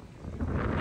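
Strong seaside wind buffets the microphone at Póvoa de Varzim in Portugal, a loud rumbling roar that builds over a brief moment.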